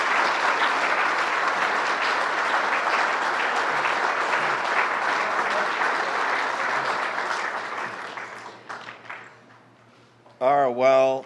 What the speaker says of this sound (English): Now give a big round of applause to Howard Zemsky